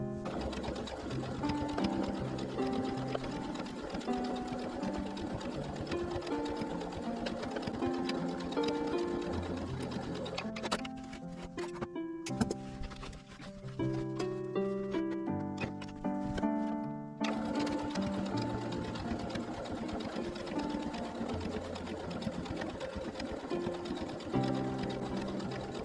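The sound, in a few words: sewing machine edge-stitching a kindergarten bag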